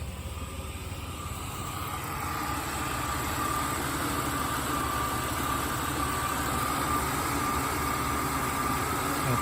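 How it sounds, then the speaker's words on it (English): A warmed-up Oldsmobile Ciera SL idles with a steady, continuous engine drone and faint whine, rising slightly in level after the first few seconds and then holding even, with no speech. "Got the engine running."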